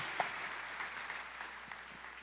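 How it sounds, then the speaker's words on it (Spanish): Applause at a church gathering, a steady spread of clapping from a crowd that stays soft and somewhat distant throughout, with no one talking over it. "Pues un aplauso para mi querido Esteban."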